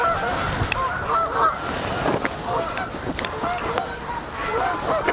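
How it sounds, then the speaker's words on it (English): Geese honk repeatedly in the background outdoors, a steady chorus of overlapping calls with a constant ambient hiss. "the geese will be in the background"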